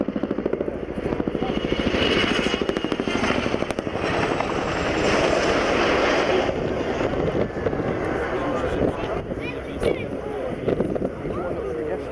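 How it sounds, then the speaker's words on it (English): A loud, continuous twin-rotor Chinook helicopter roar at an airshow, with heavy pulsing rotor thumps and wind buffeting throughout. "That's such a distinctive sound, the blades up those twin rotors"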